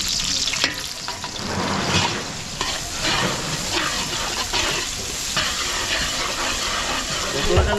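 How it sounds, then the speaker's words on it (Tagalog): Garlic and onion sautéing in a hot pan for pancit, a steady close sizzle with occasional scraping stirs and faint talk underneath. "lulutuin lang natin yung bawang sibuyas natin"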